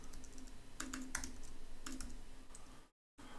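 Quiet typing on a computer keyboard: scattered light key clicks in short bursts, close and dry, with a brief gap of silence near the end.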